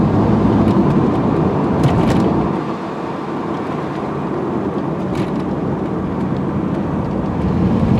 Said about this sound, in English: Car drives great, handles good, there's no body roll.